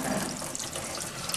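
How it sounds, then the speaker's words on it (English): Warm water runs steadily from a tap while a conditioning ring is rinsed under it, a brief, even hiss of splashing flow at moderate volume with no talking. "If you rinse it in warm water, that also helps it to dry off fairly quickly."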